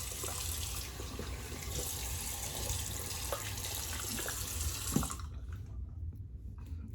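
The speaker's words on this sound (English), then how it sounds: "All right, cold water rinse." Cold tap water runs steadily into a sink for a rinse after shaving, a close, even hiss with small splashes that cuts off sharply near the end, leaving quiet.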